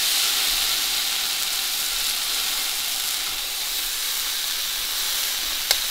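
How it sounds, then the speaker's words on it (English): A Wagyu sirloin steak sears on a hot cooker, giving a steady loud hiss and sizzle that runs unbroken throughout, with a brief sharp crackle near the end and no talk over it. "That'll give it a nice sear all over, huh?"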